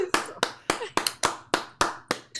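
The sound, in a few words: audience applause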